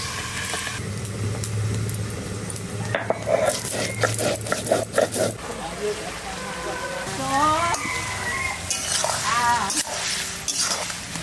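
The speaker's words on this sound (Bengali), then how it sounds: "এবার ঢাকাটা তুলে একটু নাড়া দেবো।" A pot lid lifts with a metallic clatter and a spoon scrapes and stirs through curry, producing short clinks and knocks, and a voice speaks nearby.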